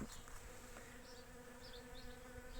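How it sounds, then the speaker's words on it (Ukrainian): Bees drone in a steady, faint buzz around a beehive outdoors in September, a continuous hum with occasional nearer passes and no voices. "Чуєте, як вони співають? Їх тут вулик цілий."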